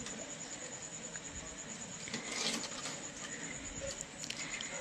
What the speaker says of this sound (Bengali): এবার মাছটা এক এক করে দিয়ে দেব।